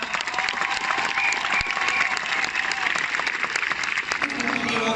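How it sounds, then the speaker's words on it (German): A crowd at a street demonstration in Cologne claps steadily and continuously throughout, a dense, even patter of applause with some murmur of voices underneath. "Einmal Applaus für die beiden nochmal."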